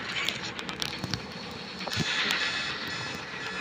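A train in the Poppy Playtime video game rumbles and clatters along under an emergency stop, giving a noisy, rushing mechanical roar with a few sharp knocks. Moderately loud and continuous.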